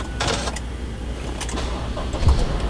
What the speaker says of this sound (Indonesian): oke aku hidupin dulu ya mesin mobilnya.